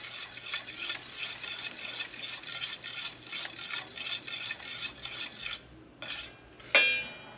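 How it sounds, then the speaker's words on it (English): Zucchini fritter batter with minced garlic is stirred in a bowl, a steady scraping, rubbing swish with small utensil clinks that runs continuously, pauses near the end, then ends with a sharper scrape. "And obviously you give this a stir"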